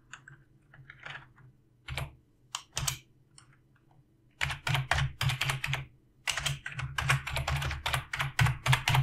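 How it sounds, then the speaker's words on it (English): Someone types an email address into a web form on a computer keyboard, with a few scattered keystrokes first and then a fast, close, clattering run of key clicks. "just type my email address here"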